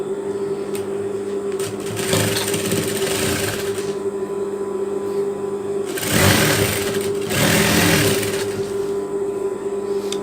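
A sewing machine stitches a tank top in a steady, close mechanical whir with a constant motor hum, pausing briefly then resuming in two louder bursts of fast stitching.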